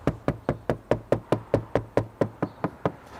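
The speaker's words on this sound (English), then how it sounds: "you might just want to have a tap, see what you can find." About fifteen evenly spaced knocks on a ceiling while searching for a rafter, close and crisp, with a quick regular rhythm and no talking.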